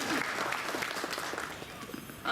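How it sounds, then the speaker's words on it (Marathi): Applause from an audience at a lecture series talk, a short spread of clapping that fades quickly before a sharp sound at the end. "टाळ्या वाजवू शकता"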